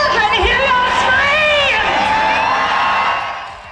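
Thrill seekers scream and shriek as demons step off a haunted terror train at a 7 p.m. Halloween-style event in San Antonio, a loud, continuous wall of high cries and whoops from a nearby crowd that fades toward the end.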